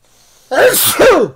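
A single loud, close sneeze: a sharp inhaled catch followed by an explosive burst, lasting about a second against near silence.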